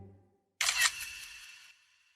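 A single crisp camera shutter click snaps a selfie photo, a sharp close burst that fades quickly into quiet.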